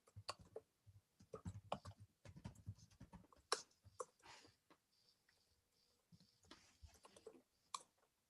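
Someone types on a computer keyboard during a university physics lecture, with quiet, irregular bursts of key clicks broken by short pauses and close to the microphone.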